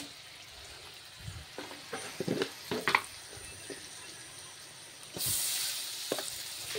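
Spices with turmeric and salt fry in a pan while being stirred: a faint scraping and clatter of a spoon, then a louder, steady sizzle swelling up for the last second or so.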